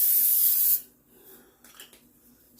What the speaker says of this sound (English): I'm going to put my bread dough in there and spray the top of it